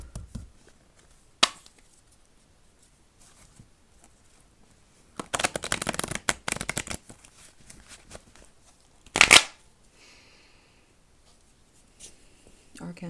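Tarot cards being shuffled by hand in a few short bursts of papery riffling and flicking, separated by quiet pauses, close and fairly crisp.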